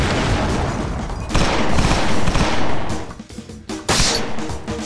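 A loud grenade blast and rumbling combat noise in the first-person shooter XIII at a naval base, with a sustained roar that breaks into a few sharp bursts near the end.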